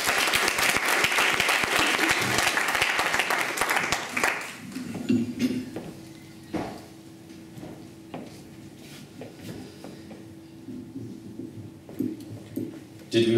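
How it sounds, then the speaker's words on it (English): Loud applause fills the first few seconds, then fades into scattered claps and room noise with a faint voice. "Give him a round of applause."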